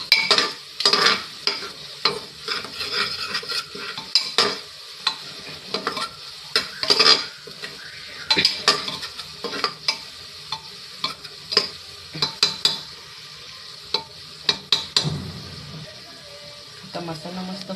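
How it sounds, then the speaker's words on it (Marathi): Turmeric and onion masala frying in a pan while being stirred, a steady sizzle broken by repeated scraping strokes of a spoon, close and prominent, with some voice in the background. "थोडीशी हळद आणि 2 चमचे कांदा मसाला. आपण ह्याला चांगलं फ्राय करून घेऊया."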